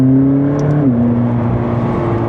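A McLaren 600LT Spider accelerating hard, its engine loud and close with a steady roar, and one quick dual-clutch upshift marked by a short dip in pitch partway through.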